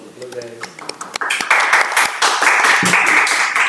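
Audience applause greeting two guests at a student association event, starting after a brief spoken line and swelling into dense, steady clapping that carries to the end.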